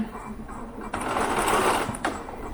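A sewing machine stitches a linen pullover top, running in a close steady whir that pauses briefly and restarts, with a slight voice mixed in.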